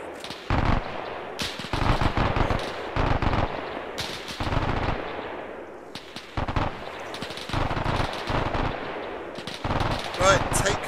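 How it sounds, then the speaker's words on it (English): Bursts of machine-gun fire from a German gun nest in a multiplayer war game, sharp rapid volleys repeating in several clusters over a steady battle din, fairly loud and close, with voices talking in between. "German machine gun nest, northeast."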